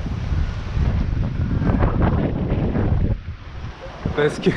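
Strong wind of around 30 knots roars across the microphone of a Sangria sailboat running downwind on open sea, with waves and water rushing beneath a voice speaking briefly before the gusts ease slightly near the end.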